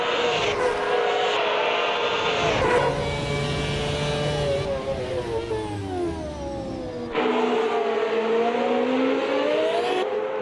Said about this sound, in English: Really hear Peter using a little bit of the engine braking there, kind of downshifting to slow the car down.